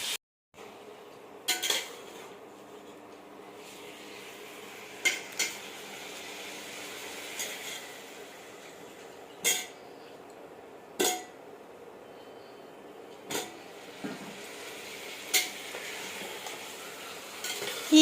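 Meat curry cooking in a pan, with irregular scraping and clinking of a spoon being stirred against the metal pan, repeated sharp clinks over a steady low background of cooking, no talking.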